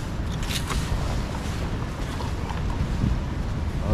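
Strong water rushes and churns during a typhoon. A loud, continuous, low roaring wash holds steady without a break, with no voices over it.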